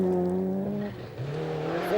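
Lancia Delta rally car on a 1990 British Rally Championship stage, engine droning loudly and steadily with a gear change midway, then rising again under a commentator's voice.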